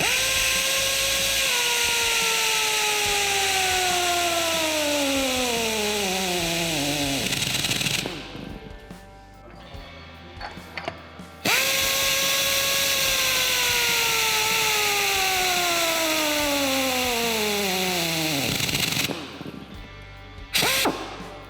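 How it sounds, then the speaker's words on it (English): A jGun dual-speed torque tool runs down and tightens nuts, loud and close, its pitched whine sliding steadily downward over several seconds and then stopping with a clatter, twice in a row. "Now I'm going to torque the nuts down to 700 foot-pounds"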